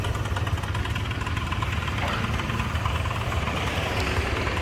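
A Honda Giorno scooter with a freshly rebuilt engine idles steadily close by, giving a continuous low mechanical hum and rattle for the whole stretch, with no talking.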